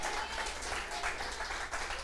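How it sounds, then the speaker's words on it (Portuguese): A church congregation applauding the Lord during a sermon, dense continuous clapping from many hands filling the room, steady and fairly loud throughout. "Você quer aplaudir o Senhor de novo?"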